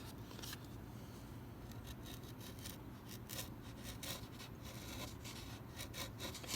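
A chisel carves a wooden strut along the grain, making a steady, close scraping and shaving rasp with a run of short, repeated strokes.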